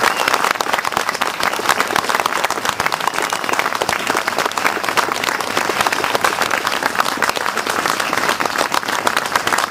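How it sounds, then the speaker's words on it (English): A large crowd at the Donington motor racing circuit gives a huge round of applause, a thick, steady wash of clapping that stays loud and unbroken throughout. "I think we ought to salute the work that Tom Wheatcroft put into this circuit by a huge round of applause"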